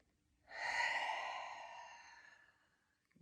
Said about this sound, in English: Really accentuate that exhalation out of the mouth.